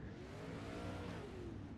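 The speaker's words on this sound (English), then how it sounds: "can hear them revving up the engines as they get ready to fire off" Race car engines rev and drone continuously at a steady, loud level before a start at Cedar Lake, with rising and falling pitch from several engines at once.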